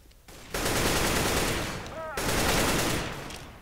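Gunfire in Counter-Strike Global Offensive, two loud sustained bursts of rapid shots in close succession, harsh and dense, with a brief dip between them.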